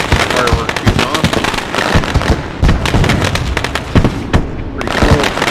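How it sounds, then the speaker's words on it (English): Fireworks at the start of a dirt track race fire off in a dense, loud string of sharp bangs and crackling pops over about five seconds, close and continuous with crowd noise underneath. "Fireworks shooting off."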